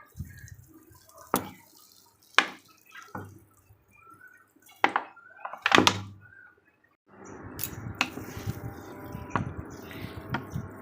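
Water splashes onto potted garden plants, including tomato plants, in a series of close, separate pours and drips, followed by a steadier trickling stream.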